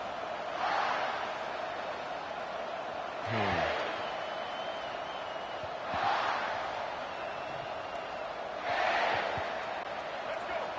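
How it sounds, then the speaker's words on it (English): Stadium crowd noise from College Football 25 on PS5: a steady roar that swells in regular waves, running beneath game commentary. "This crowd trying to show them what it's going to be like all day in this house."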